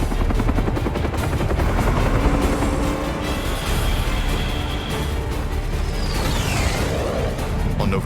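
Attack helicopters in Vietnam War combat, a loud, continuous roar of rotor and engine noise that fills the whole clip, with sweeping whooshes passing through and no voices.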